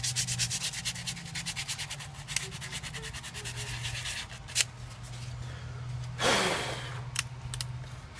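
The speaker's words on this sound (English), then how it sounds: "So I'm sanding it down with 120, because that's all I have." Plastic interior trim of a Subaru WRX is rubbed with 120-grit sandpaper in steady back-and-forth strokes, close and moderately loud, with a low background hum and a brief louder scrape near the end.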